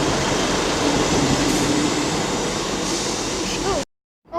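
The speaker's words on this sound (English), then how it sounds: "these two 334s are now departing with the 34 Scottish service to Mulgai" Two coupled Class 334 electric trains departing a station, a loud steady rumble of motors and wheels with faint rising whine, ending abruptly in silence.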